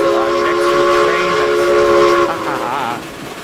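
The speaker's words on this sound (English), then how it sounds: "can't hear a word you're saying because I'm next to a train." Train passing close by with its whistle sounding, a loud sustained multi-tone horn chord that cuts off partway through, leaving rumbling rail noise and a brief wavering tone behind it.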